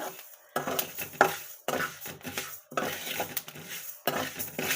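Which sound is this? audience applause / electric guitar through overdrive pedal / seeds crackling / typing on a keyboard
seeds crackling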